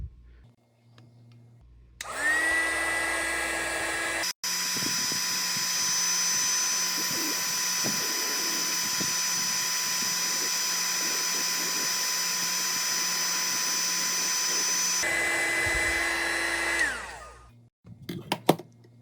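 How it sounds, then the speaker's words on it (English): A heat gun on its highest setting starts up and blows with a loud, steady whirring roar, runs continuously for about fifteen seconds, then is switched off and winds down. "We're going to grab the heat gun and connect it. So I'm going to use this on the highest setting on number 2."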